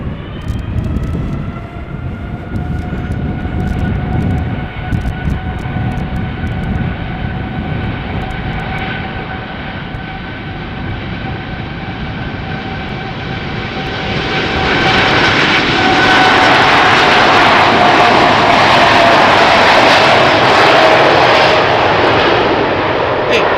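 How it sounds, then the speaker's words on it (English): A Boeing 747-8 jet starts its takeoff at Schiphol Airport, a loud droning engine roar with a sustained whine that swells sharply as the engines spool up to full thrust. "747-800 is about to take off and I don't want to miss a single moment of it"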